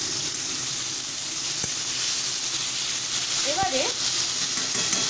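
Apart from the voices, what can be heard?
potatoes frying in oil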